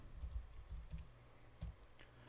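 Quiet typing on a computer keyboard, a short run of soft key clicks in irregular rhythm, close and alone.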